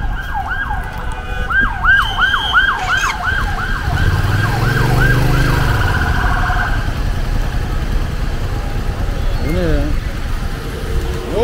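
An ambulance siren wails in a fast rising and falling pattern at the scene of a traffic accident, fading out partway through over loud road traffic, with a deep vehicle rumble and a brief second siren chirp near the end.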